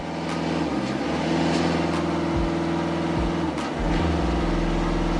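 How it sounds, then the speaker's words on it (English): A full-size car converted to remote control revs its engine in a loud, steady roar with rising and falling pitch swings, close and continuous with no talk. "Let's rev this."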